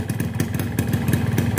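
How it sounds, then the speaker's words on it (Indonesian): A cold two-stroke motorcycle engine, a Mesrania Super 2T, idles just after starting, with a steady rapid rattling putter and faint rhythmic pulses, close and fairly loud with no other sounds. "Ini mesin dingin ya, mesin dingin posisi langsam kayak gitu"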